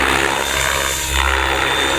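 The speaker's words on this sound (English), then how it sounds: "I'm just going to do a sideways roll" A radio-controlled helicopter performs a stationary sideways roll, its rotor and motor giving a loud, continuous whirring buzz that dips briefly mid-roll and then swells back up.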